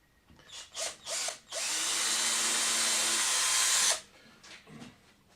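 A power drill runs with a 1.5 mm bit, clearing out a small hole in a 3D printed control arm for a Rumpler Taube model fuselage; a steady whine of about two seconds follows a few short trigger bursts, with brief blips afterward.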